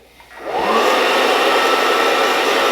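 A loud, steady whooshing fan roar from a Fresh Roast SR800 hot air coffee roaster switches on after a brief click and keeps running evenly, close by, with no talking.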